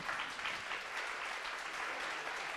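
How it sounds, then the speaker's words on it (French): A debate audience claps continuously, a dense, even wash of applause heard from within the hall, moderately faint and steady throughout with no voices over it. "Je vous propose d'arrêter là et d'applaudir nos deux intervenants."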